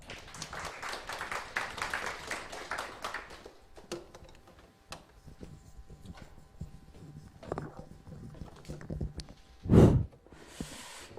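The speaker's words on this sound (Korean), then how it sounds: "다음 순서로 실무를 담당하시는 서광채 교수님을 큰 박수로 모시겠습니다" An audience at an admissions briefing for a Korean appraiser licensing exam applauds to welcome a lecturer, a burst of clapping that thins out into scattered claps and small room noises.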